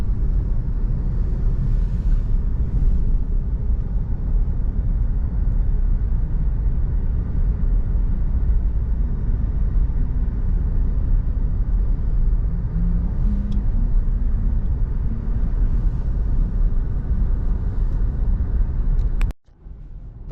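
Car driving along a road in New Zealand, a steady loud low rumble of engine and tyre noise held throughout, briefly dropping away near the end.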